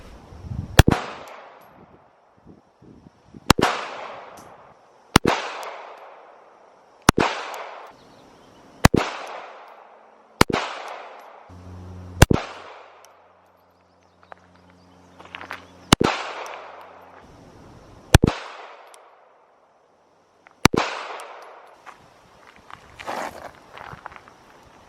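Pistol shots from a Glock 42 fired at 15 yards on an outdoor range, about ten sharp loud cracks at steady intervals of roughly two seconds, each with a brief ringing tail.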